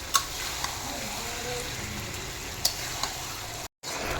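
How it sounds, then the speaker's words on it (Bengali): Meat braised with spices for khichuri in a pot, giving a steady, even sizzle with a few sharp clicks and a brief dropout near the end, close and continuous. "মাংস কষানো প্রায় শেষের দিক"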